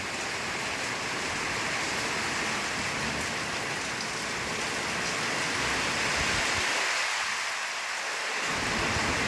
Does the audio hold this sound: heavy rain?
yes